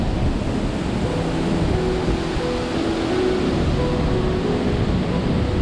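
Bhatta Falls waterfall in Mussoorie, Uttarakhand roars as a loud, continuous broadband rush of falling water and spray, with steady wind noise close to the microphone.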